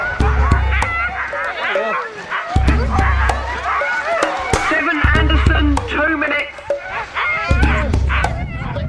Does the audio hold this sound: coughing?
no